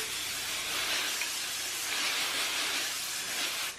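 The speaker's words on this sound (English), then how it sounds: "I'm gonna give myself a setting spray" A steady, close hiss of aerosol setting spray on hair held continuously for several seconds, then cutting off abruptly at the end.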